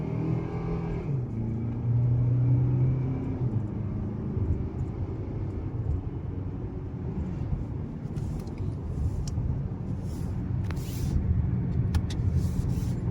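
A 2025 Kia K5 LXS sedan in sport mode accelerating hard uphill, its engine a steady loud drone with rising revs and road noise, heard from inside the cabin without talk.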